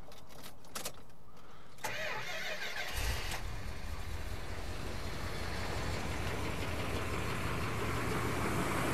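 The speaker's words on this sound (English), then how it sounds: "I'm sure you want to hear the Chrysler starter engage." A 1972 Chrysler Imperial LeBaron's starter cranks with a few quick whirring clicks before the big engine catches and settles into a steady, close, rumbling idle that continues to the end.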